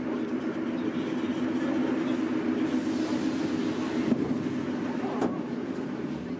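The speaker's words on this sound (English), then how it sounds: "My train is arriving" A Moscow metro train rumbles into a station with a steady low roar, a rising hiss of air and brakes, and a sharp clank near the end.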